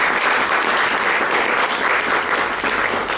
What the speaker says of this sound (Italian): qui un applauso anche a Mario Capello